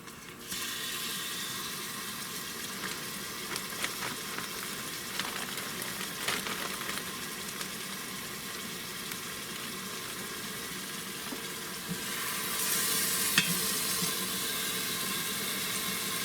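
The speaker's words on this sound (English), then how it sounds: "we're just gonna sit there and place them right down into the oil" Country-style ribs frying in hot oil, a constant close sizzle and crackle that keeps going for the whole stretch and swells a little louder near the end, with no one talking.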